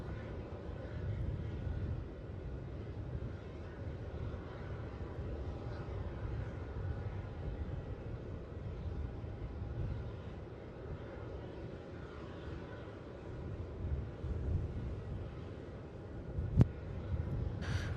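A Velocity airliner takes off from runway 27 at Melbourne Airport, its jet engine roar a steady broadband rumble held at a moderate distance for the whole stretch, with one brief sharp click near the end.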